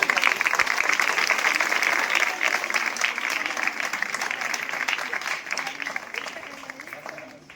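Loud, dense applause from an audience at an academy gathering honouring teachers, steady clapping that fills the whole stretch and tapers slightly toward the end.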